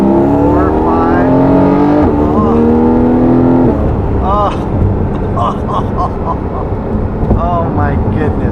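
A Porsche Boxster flat-six revs hard past 5,000 RPM under acceleration, a loud rising wail that climbs through several gears, with brief drops at each shift and engine roar filling the whole stretch.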